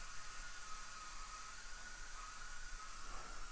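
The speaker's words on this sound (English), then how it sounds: "hold the trigger until all of the steam is out and it stops making noise" Steam hisses steadily from a Bissell Steamshot Deluxe handheld steam cleaner as its pressure is let out, a faint, continuous broadband rush with no breaks and no talk.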